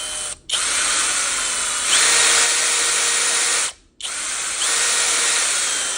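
An INSPIRITECH 20V cordless brushless power drill whirs loudly in long continuous bursts, stopping briefly twice before spinning up again, close by with no talking.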